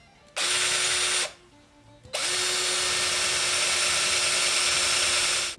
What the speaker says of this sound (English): I'm going to basically eyeball this and try to drill it straight in.